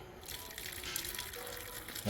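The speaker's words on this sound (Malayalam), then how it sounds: "ഇത് നമുക്കത് തുറന്നു നോക്കാം വെള്ളം എന്തുമാത്രം ഫോഴ്സിലാണ് വരുന്നതെന്ന്" Water gushes steadily from the tap of a portable camping water can, a continuous, close, fairly loud hissing pour that runs through the whole stretch without talk.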